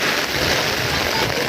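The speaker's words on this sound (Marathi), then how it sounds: "पाऊस पण वाढलाय खूप." Heavy monsoon rain in the Konkan, a dense, loud, unbroken broadband hiss of downpour close by, steady throughout with no distinct drops standing out.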